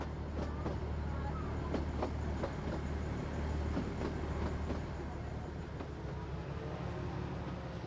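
A small train runs through the Kangra valley in India with a steady low rumble and repeated rail clicks, heard close and continuous throughout.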